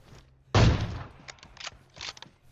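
An AWM sniper rifle fires in PUBG: one loud, close crack followed by quieter mechanical clicks and bolt-action handling sounds, with no speech over it.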